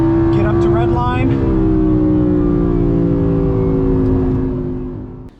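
An Audi R8, Porsche Cayman GT4, Mercedes-Benz GT S or Ferrari engine on a race track roars at full power out of a turn, pitch climbing steadily toward the red line in one long, loud sustained pull that eases off at the end.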